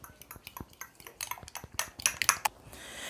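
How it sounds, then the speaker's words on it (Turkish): Eggs whisked with a fork in a bowl for a vegetable omelette, a quick run of light metallic clicks and taps that grows busier and louder toward the end, close up with no talking. "İlk önce çatal yardımıyla yumurtalarımızı bu şekilde çırpacağız."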